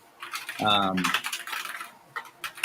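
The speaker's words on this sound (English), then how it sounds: "That's the loudest typing I have ever heard. It's a mechanical keyboard, sounds like." Rapid clicky keystrokes from a mechanical keyboard patter under overlapping voices on a call, loud and close, with a brief tonal interruption early on.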